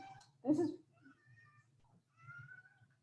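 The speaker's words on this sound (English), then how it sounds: "everyone that's hearing may be able to hear my cat" A house cat meows loudly once, then gives a couple of fainter, drawn-out mews, close by. There is a faint low hum underneath.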